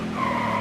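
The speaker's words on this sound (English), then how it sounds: "Hard brake." Tires of a NASCAR Heat 4 race car skid under hard braking, giving a loud, steady tonal squeal with engine rumble beneath, up close and without speech.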